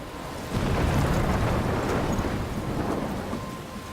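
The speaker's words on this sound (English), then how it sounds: "I'm trapped in a storm?" A thunderstorm in the game Life Is Strange, near a lighthouse: a deep, rolling rumble of thunder swells in after a quiet start and carries on under steady rain.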